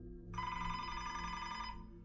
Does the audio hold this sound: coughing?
no